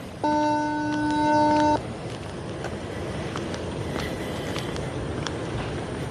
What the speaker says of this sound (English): You guys hear that big loud beeping?